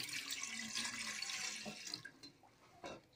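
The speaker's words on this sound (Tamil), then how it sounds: "இப்போ வந்து இட்லி பாத்திரத்தை வச்சு நம்ம அதில் தண்ணி ஊற்றிக்கலாம்" Water is poured into an idli steamer vessel while lentil dumplings for kuzhambu are prepared. A close, hissing stream runs continuously, then tapers into a few separate splashes and drips at the end.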